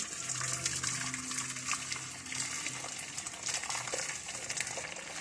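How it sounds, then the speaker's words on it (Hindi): Jaggery syrup being strained from one pot into another for sweet jaggery rice, a steady pouring, trickling liquid sound with some clatter of utensils, close and continuous, no talk. "ये जो हमारा शीरा बन रहा है गुड़ का, अब हम इसको जी छान लेंगे।"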